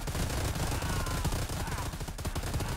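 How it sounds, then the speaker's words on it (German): Rapid, sustained automatic gunfire from the video game Predator: Hunting Grounds, a dense wild burst of shots that stays loud and continuous with no talking. "Wer schießt hier so wild?"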